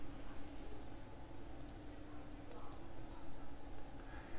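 A computer mouse is double-clicked, two quick faint clicks close together, followed later by a single click, all over a low steady room hum.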